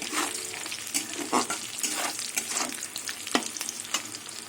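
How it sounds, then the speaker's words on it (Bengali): Mushrooms and nuts frying in oil, a continuous sizzle broken by repeated scraping stirs of a spatula against the pan, close and fairly loud with no voices. "মাশরুম বাদাম ভাজা হয়ে গেছে এবার আমি তুলে নেব"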